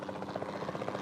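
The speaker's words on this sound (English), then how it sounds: "Then the sensible thing is to take a capture team helicopter." A capture team helicopter in the video game Jurassic World Evolution 2 gives a continuous rapid rotor thrum, a steady pulsing drone at moderate level.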